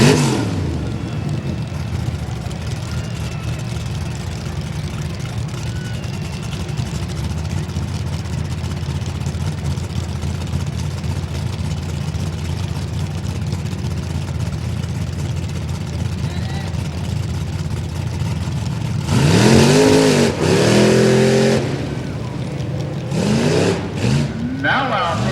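A tough truck engine at a county fair race course snarls and revs in a long, steady, moderately distant roar, rising into louder bursts near the end, while an announcer speaks over it.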